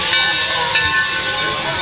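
Steam locomotive Torch Lake at Greenfield Village's Firestone station, venting a loud, steady, close hiss of steam as the train pulls away, with no talk over it.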